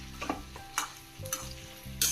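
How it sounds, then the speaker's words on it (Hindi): Peanuts, cashews and bay leaves temper in hot oil for Kolkata-style khichdi, giving a quiet, steady sizzle broken by a few sharp crackles and pops. "मैं मूंगफली काजू तेज़पत्ता ये सब का मैं तड़का लगाई हूँ"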